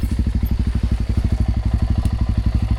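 Dirt bike engine on a downhill trail, a loud, close, rapid thumping putter with an even pulse throughout.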